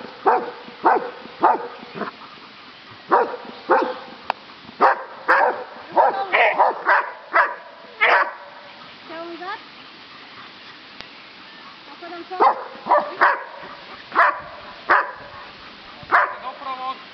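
A police or guard dog at a children's day demonstration barks repeatedly in loud, clustered bursts, with a few whimpering yips between them and some pauses.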